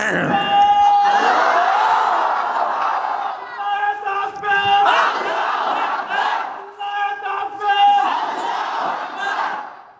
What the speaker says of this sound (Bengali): হ্যাঁ, তাকবীর দাও।